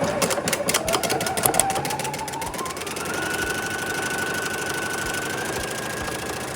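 A sewing machine stitches through fleece wrap fabric, a fast, close mechanical chatter that runs continuously and settles into a steadier, rising whir partway through.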